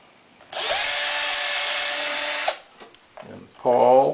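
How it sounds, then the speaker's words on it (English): A power drill whines steadily for about two seconds as it bores a hole through a wooden pawl for a homemade rubber band gun, then stops; a voice speaks briefly afterward. "I'm going to drill as straight a hole as I can."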